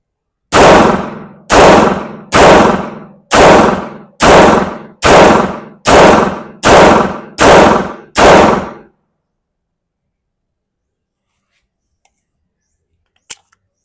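Ten rapid shots from a Grand Power K100 pistol during test firing, evenly spaced about a second apart, each a loud sharp crack with a short ringing tail, followed by near silence and a faint click at the end.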